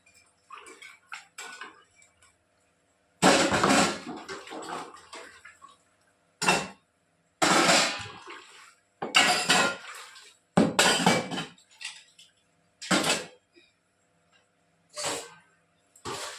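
Dishes, pots and pans are washed with water in a home kitchen, with bursts of splashing, scrubbing and clinking metal separated by short quiet gaps, close and fairly loud.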